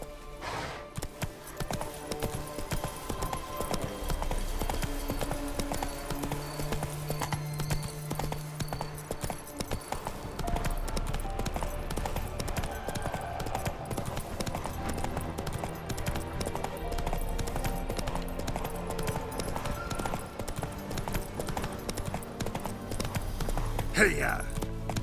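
Steady clip-clop of horse hooves at a gallop in The Witcher 3, with Geralt's horse Roach running continuously under game music, while someone speaks over it in places.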